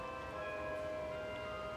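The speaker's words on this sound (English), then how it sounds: "We'll just listen to those bells for a little bit. It's a long series of bells." A long series of bells rings as steady sustained tones, an even resonant hum that continues without a break under faint background noise, with nobody talking.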